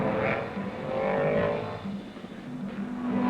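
1964 race cars at Sebring, including a 4.7-liter Ford Falcon Sprint, roaring past in a swelling and fading engine wash with rising revs, moderately distant and continuous, no talk.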